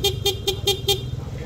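Stock horn on an FKM Venture 150 motorcycle sounds five short, evenly spaced honks in a quick rapid pattern, each a bright, buzzy toot, loud and close with no talk.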